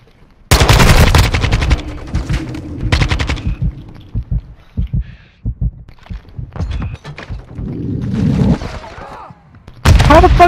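Loud bursts of automatic gunfire in a multiplayer shooter game, several sharp separate volleys with gaps between them, and players talking and reacting in the quieter stretches.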